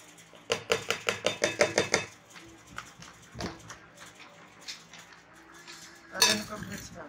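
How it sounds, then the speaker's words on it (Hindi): Fruit chaat ingredients being mixed in a bowl, with a quick run of about ten rhythmic clinks and scrapes of a utensil against the bowl, then softer scattered stirring taps and one more clattering burst near the end. "अब इनको मिक्स कर लेंगे।"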